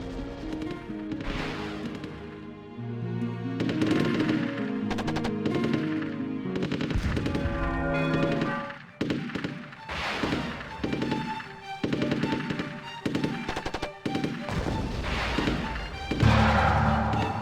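Dense, continuous battle gunfire in the Rise of Nations strategy game: rapid overlapping shots and explosive bursts crackle steadily as German forces attack, with no voices heard.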